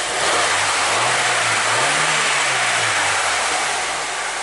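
An Opel Astra car engine revs up and down in steady swells, loud and close, with a broad rushing exhaust noise throughout.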